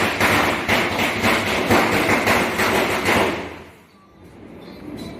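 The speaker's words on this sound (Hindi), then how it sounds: "बहुत ज़्यादा बाहर साउंड आ रहा होगा, पटाखे बहुत जल रहे हैं" Rapid loud firecracker bangs and crackling bursts repeat for about three seconds outside during Diwali in Bangalore, then stop abruptly, leaving quiet with a few faint distant pops.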